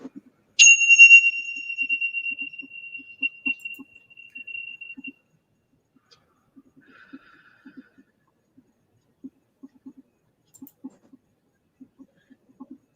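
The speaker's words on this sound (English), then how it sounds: "You're going to listen to the bell while you breathe." A meditation bell is struck once near the start, ringing out with a bright, sustained tone that slowly decays over several seconds in an otherwise quiet room, followed by faint scattered low taps.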